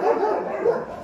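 An aggressive dog barking on a street, a couple of quick, high yelping barks heard at close range in a short burst, with no talking.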